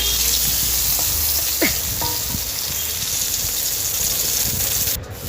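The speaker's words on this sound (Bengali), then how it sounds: "এবারে বাটা মাছগুলো আমি লাল লাল করে ভালো করে ভেজে নেব" Bata fish, rubbed with turmeric, fry in a pan with a steady, close sizzling hiss that runs unbroken with no voices over it.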